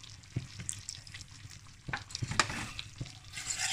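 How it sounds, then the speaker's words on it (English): A whisk scrapes and stirs as milk goes into a thickening lasagne béchamel sauce in a pan, with scattered taps and a soft sizzle underneath, close and quiet. "Just whisk that up."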